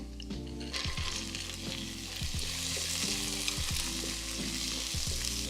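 Frozen vegetables fry in a hot pan for shrimp fried rice, a loud, continuous sizzle broken by repeated scraping strokes of a utensil stirring them around.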